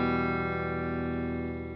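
Guitar played through the Legendary Drive distortion model on a Line 6 Helix, a single sustained distorted chord ringing steadily and slowly fading toward the end, with no talking.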